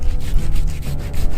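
A hand saw rasps back and forth in quick, rough strokes, loud and close, biting through the tough skin of a shark of over 400 kg being butchered.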